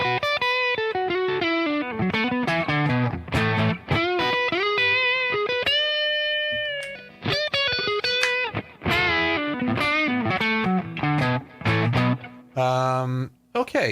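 Distorted electric guitar played through a Spark amp with an Ibanez Tube Screamer overdrive pedal, loud and close, with a run of chords and single notes, a held ringing chord in the middle and short pauses between phrases.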